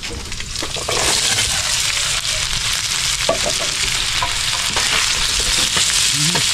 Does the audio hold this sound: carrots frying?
yes